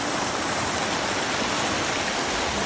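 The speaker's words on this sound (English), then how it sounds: "Very peaceful and pretty creek." Yosemite Creek at a picnic area rushes in a steady, dense hiss of flowing water, close and continuous with no voices.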